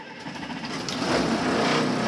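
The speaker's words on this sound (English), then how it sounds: "Now I'm gonna turn the engine on." A school bus engine turns over and catches, its rising mechanical roar growing steadily louder and steadier over about two seconds, close by with no talking.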